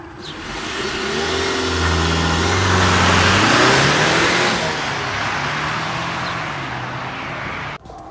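A 2021 Jeep Wrangler Rubicon 4xe hybrid, brake-torqued in four-wheel-drive auto with traction control off, revs loudly as the engine pitch climbs, holds a strained drone and then sweeps lower before cutting off abruptly, with no voices.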